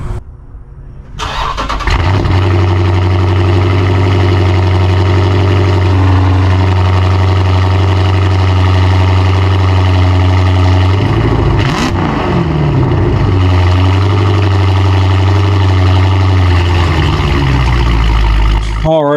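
New 426 Hemi V8 starting up in a shop: a starter crank, then the engine catches and settles into a loud, deep, steady idle with a brief rev midway, close and dominant.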